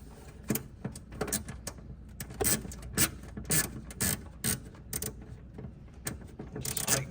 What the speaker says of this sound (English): I was able to turn it like this until I got it tight enough for the ratchet to catch